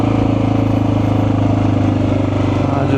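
An XR 650L motorcycle engine thrums loudly and steadily while riding, a close, even pulsing drone with a light windshield fitted, no talk over it.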